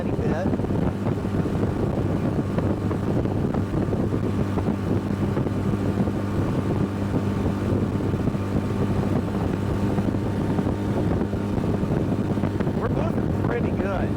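An Aluma craft boat's outboard engine holds near its rev limiter with a shallow pitch prop, a loud steady drone over rushing wind and water throughout.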